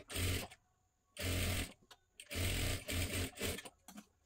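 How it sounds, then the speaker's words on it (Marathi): A sewing machine stitches a 38-size princess blouse in several loud, rapid bursts separated by short pauses. "आता इथे पूर्ण शिलाई मारून झाली."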